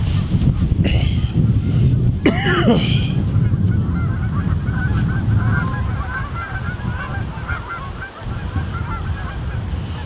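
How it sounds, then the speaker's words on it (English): A flock of geese honks outdoors in cold weather, with repeated overlapping calls at moderate distance under steady wind noise on the microphone. "All the geese out there trying to stay warm."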